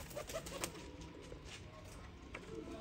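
A golden pigeon coos softly in a few short, low calls, faint against a quiet background.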